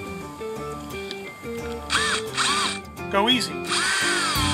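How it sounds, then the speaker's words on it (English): A power drill with a countersink bit bores into polycarbonate plastic in several close, loud bursts of whining, rising pitch, with a person speaking briefly under it. "Now we're going to go in for the countersink bit."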